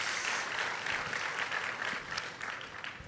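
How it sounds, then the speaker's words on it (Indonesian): A church congregation breaks into steady, dense applause that fills the room for about three seconds, loud and even with no voices above it. "Berikan tepuk tangan kita untuk Tuhan kita"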